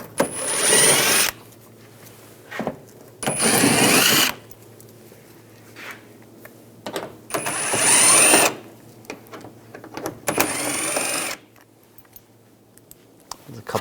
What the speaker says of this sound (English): Take these screws out. I'm going to use an 8mm socket.